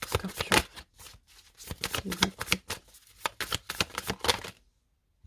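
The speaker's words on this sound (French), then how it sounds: "On va mettre une autre carte dessus." Tarot cards handled and laid down one after another during a reading, giving a string of quick close papery snaps and slaps in an uneven rhythm, with a brief pause midway and a short silence at the end.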